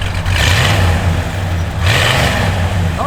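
Cammed V8 in a 1967 Plymouth Belvedere convertible, loud lumpy idle with a couple of quick blips of the throttle, heard from close behind the car.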